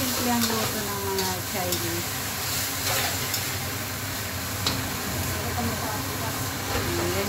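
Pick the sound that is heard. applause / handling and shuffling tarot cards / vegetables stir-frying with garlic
vegetables stir-frying with garlic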